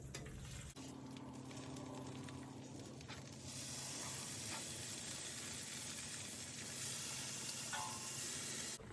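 Bacon sizzles and crackles steadily over the charcoal side of a Napoleon grill, a dense close hiss that grows louder after the first few seconds, with faint scraping along the way.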